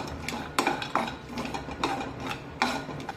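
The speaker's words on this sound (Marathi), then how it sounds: "हे काजू आणि बदाम परतून घ्यायचे आहेत" Cashews and almond slivers are stirred over a low flame in a pan for beetroot halwa. A spoon scrapes and knocks against the metal in a loose rhythm of clicks, close and clear.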